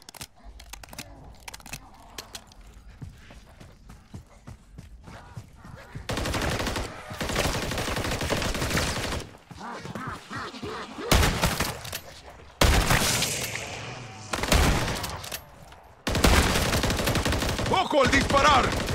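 Rapid bursts of automatic gunfire from Call of Duty MW3 Zombies, loud and close, firing in long sustained stretches broken by short pauses for reloading.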